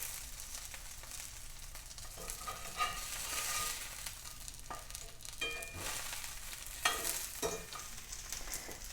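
Crispy-skin salmon fillets sizzle steadily in a hot pan, a dense continuous hiss with scattered louder pops and spits throughout, close and without talk.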